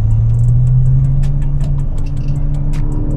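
A Volkswagen MK6 GTI engine drones under acceleration during a power-loss diagnostic drive, a loud steady low rumble with a rising tone heard from inside the car.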